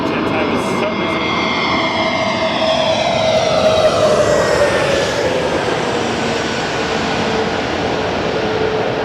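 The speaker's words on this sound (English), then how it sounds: "A321neo, if I can catch it" An Airbus A321neo jet passes at Los Angeles International Airport, its engines a loud, steady roar with a whining tone that sweeps downward as it goes by, sustained throughout.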